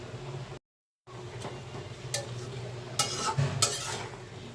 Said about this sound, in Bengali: শাকটা একটু নাড়াচাড়া করে দিচ্ছি